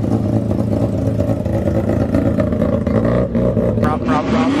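Rotary-engine car at a car meet, its engine droning and revving loudly nearby, with voices talking over the engine noise.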